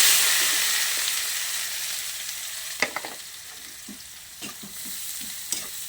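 Aromatics—ginger, garlic, chili, onion and dried shrimps—frying together in hot oil, a steady soft sizzle with a few sharp clinks of a utensil against the pan near the end.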